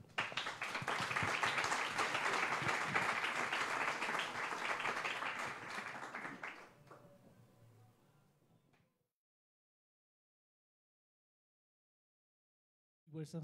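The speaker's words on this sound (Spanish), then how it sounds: "Recibámoslos por favor con un fuerte aplauso." An audience at a philosophy forum applauds with dense, sustained clapping that fades out over several seconds into silence, followed by a brief sound at the very end.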